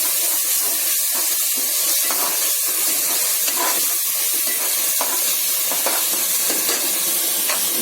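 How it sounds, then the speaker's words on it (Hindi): Garlic-ginger paste with green chili sizzles in a pot of lightly browned onions, a steady close hiss and crackle throughout with no talking, while beef biryani cooks. "लहसुन अदरक का पेस्ट हमने डाल दिया।"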